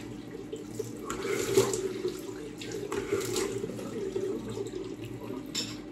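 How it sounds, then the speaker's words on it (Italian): Cold tap water runs steadily into a sink while a face is rinsed during a shave, a continuous moderate splashing hiss throughout. "sciacquiamo il viso con acqua fredda"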